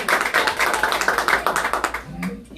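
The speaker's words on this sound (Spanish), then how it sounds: "Un aplauso para ellos, por favor." A congregation in church claps for a couple of seconds, a brisk burst of close applause that tapers off at the end.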